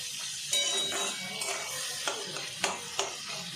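Onions fry in a pan for a Bengali fish curry, a steady sizzle and hiss with several sharp stirring scrapes and clinks of a utensil at irregular intervals, close and moderately loud.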